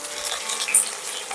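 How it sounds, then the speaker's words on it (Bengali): Potato pieces fry in oil for a banana-flower dhoka curry, giving a steady sizzling hiss with a brief clink of a utensil against the pan partway through, close and without speech. "আলুটাকেও লাল করে ভেজে নিতে হবে"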